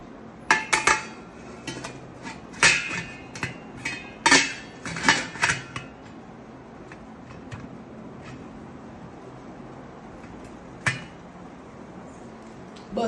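Metal idli steamer stands are stacked in a pot and the lid is set on, giving a burst of close clanks and rattles for several seconds, then a single later clink against quiet.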